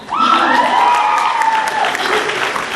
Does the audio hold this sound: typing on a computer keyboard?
no